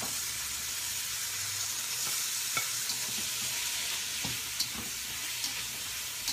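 Sweet peppers stir-fry in a pan with a continuous close sizzle, broken by light clicks and taps of a spatula against the pan.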